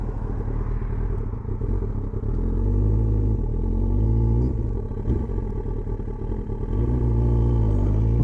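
A motorcycle with its air injection system removed and a clean air mod and main jet needle change pulls away on a ride, its engine droning loudly and rising and falling in pitch as it shifts through the revs, with some mechanical clatter.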